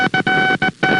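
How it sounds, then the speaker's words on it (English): A spark gap radio transmitter with its gap set too narrow gives a buzzy, harsh tone in a few short keyed bursts separated by brief gaps, loud and close with no voices. "Or they would sound like this, as you make if you made the spark gap too narrow."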